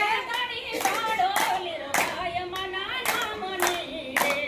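A group claps hands in a steady rhythm, sharp regular claps roughly every half second, accompanying singing of a Gujarati devotional song about Ramapir.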